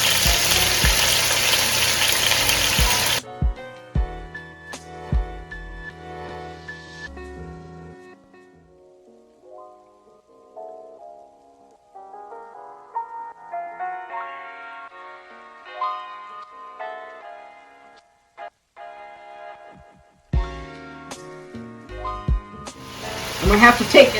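Curry goat meat browning in a pot, a loud crackling sizzle at first that drops away to quiet cooking sounds, then returns near the end with stirring scrapes.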